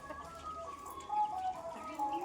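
Faint, soft clucking from a chicken, a few short notes over quiet background noise.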